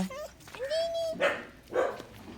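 A puppy gives a thin rising whine followed by two short yapping barks, close by, with a voice heard briefly around them.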